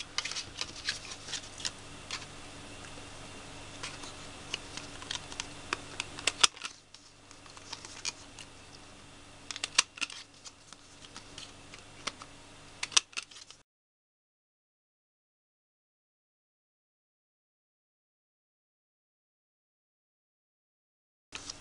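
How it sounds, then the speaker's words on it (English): A corner chomper punch rounds the corners of card-making pattern paper on its 1/4-inch side, giving sharp, close clicks and snaps scattered over a faint steady background for about thirteen seconds before the sound cuts out. "I want to chomp off all the corners using the 1/4 side of my corner chomper"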